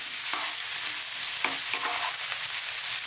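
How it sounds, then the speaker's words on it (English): Eggplant frying over high heat and being stirred constantly in a pan, a steady loud sizzle with several scraping strokes of the spoon, close up. "And now we're going to go in with the eggplant. So, continuing on this high heat and stirring all the time,"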